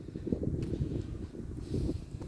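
Gusty wind buffets the microphone at a dome roof construction site, a steady loud low rumble with stronger bursts, heard alone without talk.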